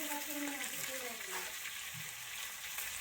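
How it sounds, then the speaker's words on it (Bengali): Chicken fries with onions and spring onion leaves in a pan, a steady hissing sizzle close by while a voice speaks over it. "পেঁয়াজের সঙ্গে চিকেনটা ভেজে নেব।"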